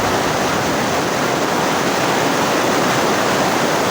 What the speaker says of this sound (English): Lots of rain, lots of rain.